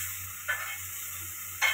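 Cluster beans in a heavy pan being stirred into masala, a soft hiss with two short bursts of sizzling scrape, fairly quiet and close.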